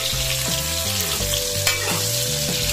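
Eggplant slices fry in a pan with a steady crackling sizzle, joined by the clink and scrape of a utensil stirring and turning them, close up with no talking.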